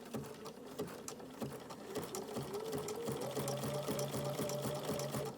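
A Bernina sewing machine fitted with an open toe foot stitches appliqué in a steady, continuous run, its rapid rhythmic needle clatter close and fairly loud, picking up slightly in pace partway through.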